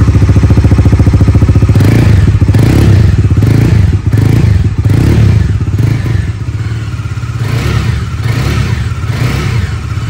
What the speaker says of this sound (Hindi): सबसे पहले एग्जॉस्ट के साउंड को चेकआउट करा देता हूँ